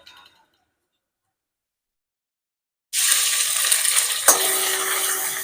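Fennel, pepper and cloves hit hot oil and burst into a loud, crackling sizzle after a near-silent pause, with a spoon clink partway through and steady frying afterward.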